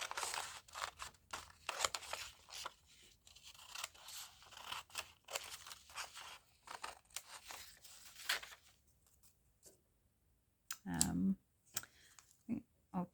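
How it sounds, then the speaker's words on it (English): Scissors snip through a faux washi paper strip in a quick series of close, crisp cuts, then a pause before a few louder, separate clicks and rustles. "I'll do the straight sides, and then I think I'll do my crunchy decorative scissors on the ends"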